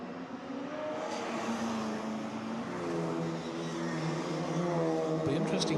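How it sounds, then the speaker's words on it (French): MGB and Mini race cars roar around a damp street circuit in a steady, layered engine drone with shifting pitches as the pack runs together, while a commentator talks throughout. "the two MGBs take a quick lead on pole in second position, followed by Orange Mini, Black Roof"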